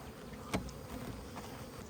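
Honey bees at hives being checked for mated queens, a steady low buzzing hum with one brief closer flyby, fairly faint and with no voices.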